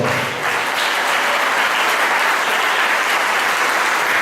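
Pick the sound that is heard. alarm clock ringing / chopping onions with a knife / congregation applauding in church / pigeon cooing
congregation applauding in church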